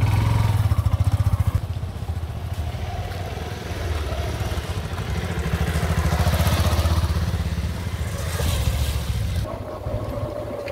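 An old motorcycle rides along a rough, slippery road near a tea garden in the hills of Ilam, Nepal. Its engine makes a continuous throbbing rumble that rises and falls with the bumps, fairly close and with no talking.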